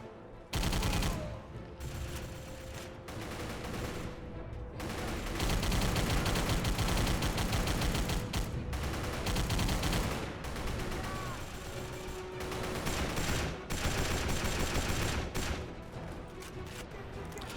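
Video game gunfire as enemies are shot, with dense, rapid bursts of shots and heavy blasts running almost continuously and loud, broken only by a few brief pauses.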